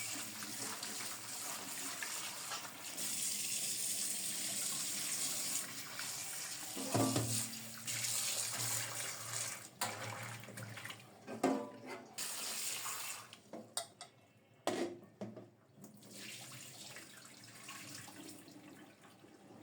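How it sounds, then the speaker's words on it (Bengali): Tap water runs into a sink while peeled potatoes, teasel gourd and pointed gourd are washed, a steady close stream broken by splashes and clunks as the vegetables are rinsed and handled. "এখন ভালো করে ধুয়ে নেব।"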